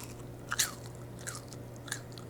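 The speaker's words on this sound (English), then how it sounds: "Now it's time for a little French fry ASMR." Crispy seasoned nacho fries bitten and chewed up close, with three distinct crunchy bites spaced across a quiet room tone.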